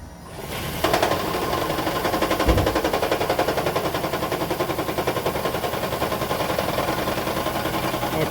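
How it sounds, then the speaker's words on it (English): A Toyota Estima Hybrid's 2AZ-FXE engine cranks and starts with a severe multi-cylinder misfire, settling into a loud, uneven, rapid chugging and stuttering idle that continues steadily nearby with no talk. "I'm going to start the engine now with all spark plugs and ignition coils installed"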